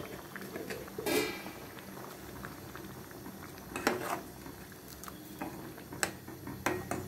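Rajma masala with tomato and onion simmers in a pot, giving a soft, continuous bubbling with scattered faint pops and ticks, moderately quiet and with no voices.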